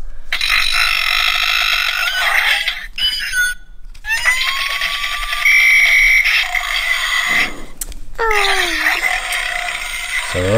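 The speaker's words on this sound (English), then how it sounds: "So those are some of the Ralph sounds." A run of electronic effects from a Rampage Ralph toy figure tied to the video game: several separate synthetic bursts with rising and falling tones, buzzy tails and brief gaps between them, close and loud for about ten seconds.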